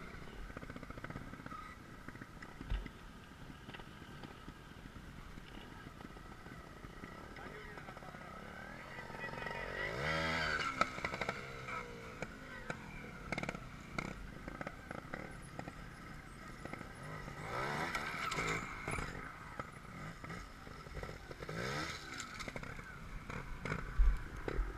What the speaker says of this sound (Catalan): Si no vas amb la moto dreta, fica't.